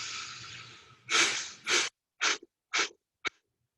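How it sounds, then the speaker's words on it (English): Deep breaths during a breathing exercise come as a long, steady inhale followed by several short, sharp, forceful puffs of air that get briefer toward the end, close to the microphone. "And then here we go, breathing in."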